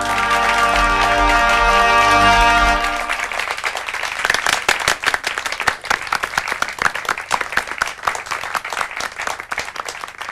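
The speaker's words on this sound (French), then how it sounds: "Je vous demande de l'applaudir, Carl Hagen." A studio audience breaks into applause for a contestant on a French game show. Sustained, dense clapping starts over closing music and then continues on its own for several seconds.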